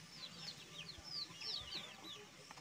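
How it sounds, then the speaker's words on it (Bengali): Chickens cluck softly at a homestead, a few short, rising calls over faint background noise, fairly distant and quiet. "আমাদের মুরগিগুলো"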